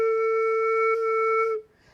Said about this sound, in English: Slower airstream coming across the hole on the lip plate would sound like this.